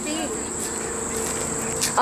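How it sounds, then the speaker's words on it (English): Angry bees buzz close by in a steady, continuous drone, with a faint voice and rustling in the background. "There's mad bees there."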